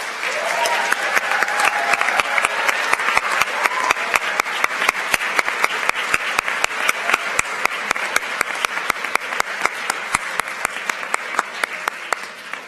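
Sustained applause from an awards ceremony audience at a high school for science and math, honoring a second-place state team; steady dense clapping with a few sharp nearby claps standing out, running throughout.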